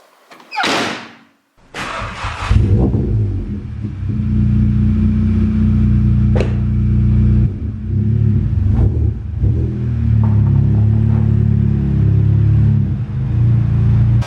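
Audi S1 car on a road test: a whoosh and door slam, then the engine starts and holds a loud, steady rumble with occasional rises in revs, heard close from inside the car.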